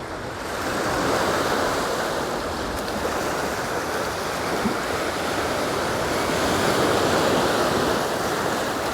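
Sea waves wash steadily onto Levante beach in Benidorm, a continuous broad roar of surf with light wind noise, loud and close throughout with no talk.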